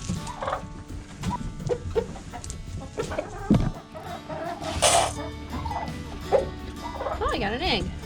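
Several chickens on a Christmas tree farm cluck and squawk close by in irregular bursts, with a few sharper calls, while people talk nearby.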